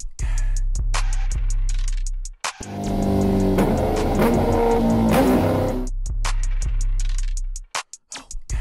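Worn motorcycle engine idling with a connecting rod knock, a loud, rapid mechanical ticking and thumping that swells into a rougher revving burst midway, then drops back to a steady knocking idle.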